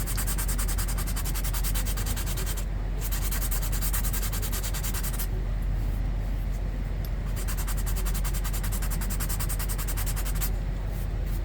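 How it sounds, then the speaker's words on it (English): Light sanding of filler on an interior panel of a 2021 GMC Sierra: a steady, close, loud rubbing rasp that keeps going, broken by a few short pauses. "Now I'm just going to lightly sand it to get rid of that the high spots."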